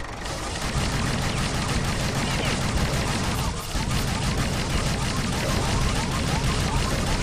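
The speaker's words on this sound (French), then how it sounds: "Je tire un peu au hasard parce que je sais que si je tire dans une direction qui est à peu près la bonne, la visée automatique corrigera." Gunfire in the video game L'Odyssée de Munch, dense continuous bursts of shots and booming impacts layered over a loud, busy game soundscape, with a brief dip midway.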